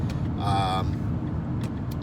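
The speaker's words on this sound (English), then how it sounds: "Miss Minnie, who happens to be here in the car with me driving home" Steady low rumble of a car driving home, heard from inside the cabin, with a brief tonal whine partway through and a constant road drone under quiet moments.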